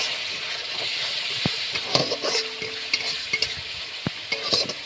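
Spice paste for a bata fish curry sizzles steadily in a pan, with cumin powder just added, while a spatula scrapes and clinks against the metal in irregular close strokes throughout.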